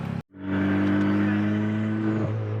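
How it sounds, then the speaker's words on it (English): A turbocharged Toyota Celica GT-S engine roars up loudly and holds a steady, high rev with a strong whining turbo tone, close by and continuous. "I love the turbo noises"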